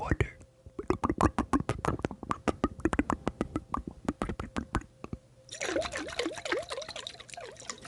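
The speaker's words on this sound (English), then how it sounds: "Water in a mason jar." Water poured and trickled inside a glass mason jar, a soft liquid burble with bubbling, preceded by a run of quick close taps and clicks in a quiet room.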